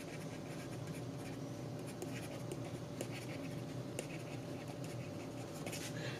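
A stylus writes on a reMarkable 2 tablet, giving faint papery scratching strokes with occasional light taps, steady and close over a quiet room hum.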